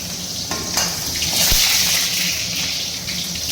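Food going into hot oil in a home kitchen pan: a sudden sputtering burst that settles into a steady, close hiss and crackle of frying, heard alone without talking.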